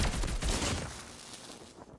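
Gunfire from the Oden rifle in a video game, a burst of sharp shots with bullet impacts that fade into a lingering decaying tail.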